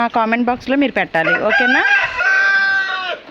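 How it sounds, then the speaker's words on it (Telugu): A rooster crows loudly and close by in a long drawn-out call, following someone speaking. "ఈ కోడి సౌండ్లు ఎప్పుడైనా విన్నారా మీరు"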